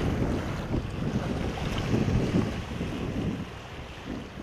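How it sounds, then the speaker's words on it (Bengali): Strong wind sweeps over the wide Padma river, a steady roaring buffet with deep low rumble and wave wash, loud and unbroken, with no voices. "খরস্রোতা পদ্মার চারিদিকে শুধুই উত্তাল হাওয়া"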